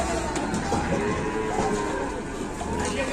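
Agitated cow mooing repeatedly after being unloaded from a truck, amid a noisy crowd of onlookers; the bellows come in over steady background chatter and commotion, close and fairly loud.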